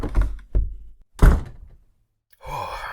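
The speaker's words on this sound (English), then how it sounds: "I'm closing the lid." A lid closing in an audio drama, heard as a few hollow thunks and knocks separated by short silences, ending with a softer rustling sound.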